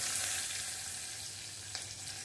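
Asafoetida, curry leaves and ginger-garlic paste sizzle in hot oil for bread pakora, a steady close frying hiss with a faint pop or two and no talking.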